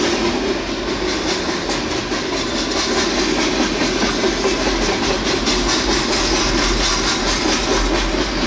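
A BNSF freight train loaded with trash containers rolls past close by, a steady loud rumble with clickety-clack of wheels on rail joints throughout.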